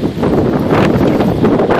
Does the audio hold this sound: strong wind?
yes